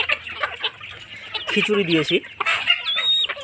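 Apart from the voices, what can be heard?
layer chickens and roosters clucking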